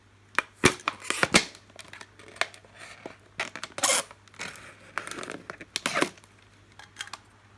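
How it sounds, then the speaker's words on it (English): Scissors snip through a stiff plastic bottle in irregular crunchy cuts, with crackling and rustling between snips, fairly close and without talk. "I'm just using an X-Acto knife to start it, and then I'll go around with my scissors."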